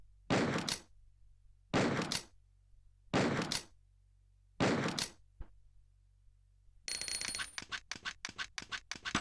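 Four heavy, evenly spaced Magnum revolver shots boom out in Resident Evil Survivor, each with a long pause between, followed by a rapid series of clicking, clattering reload sounds.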